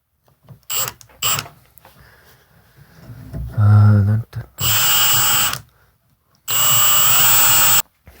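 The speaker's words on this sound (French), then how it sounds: "pour que quand je vais percer de l'autre côté, j'arrive à rejoindre le premier trou, le premier perçage" A power drill bores through a tree branch being made into a lamp, giving several loud bursts of high whining, grinding drilling separated by pauses, with a short spoken remark in between.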